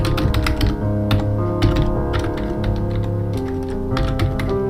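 Fingers typing a password on a computer keyboard, a steady patter of clicks and key taps running throughout over a continuous tonal background.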